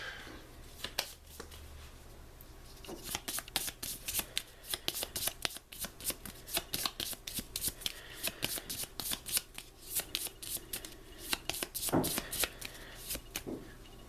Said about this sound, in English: I ditch all of these cards. Draw back up.